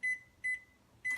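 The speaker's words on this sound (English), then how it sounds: "I'm going to pop it in the microwave for 40 seconds." A kitchen microwave oven sounds three steady electronic beeps, evenly spaced and fairly faint, with a low hum between them.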